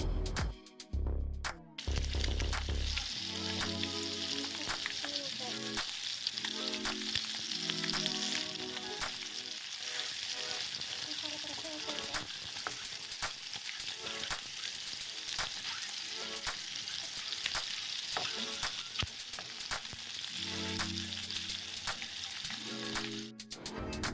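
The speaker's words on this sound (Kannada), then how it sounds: "ಅಂತೆ ಬ್ರೌನ್ ಕಲರ್ ಪರ್ಪಿನ ಮುಟ್ಟ ಫ್ರೈ ಮಲ್ಪೋಡು." Eggs frying until brown in a pan give a continuous, even sizzle and crackle with intermittent stirring scrapes throughout; no voices.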